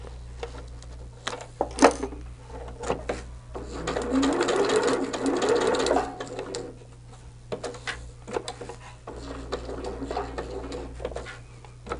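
A sewing machine runs in bursts while basting a quilt, its rapid mechanical stitching rising loud in the middle, with quieter clicks and handling noises around it.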